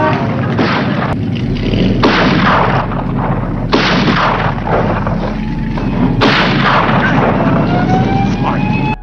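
Gunfire in an action film scene, several loud heavy bursts of shots and booms spread across the stretch, layered with blasts and mixed under a continuous dense soundtrack.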